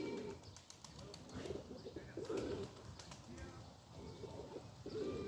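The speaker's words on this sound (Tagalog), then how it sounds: "Pakain lang ng ibon." Pigeons being fed coo softly in repeated low, throaty bursts, close by, with scattered chirps and faint background voices, on a rainy Saturday.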